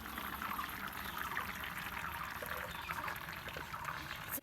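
Water pours and splashes steadily as it drains from boiled chow mein noodles, a continuous close trickling rush that stops abruptly at the end.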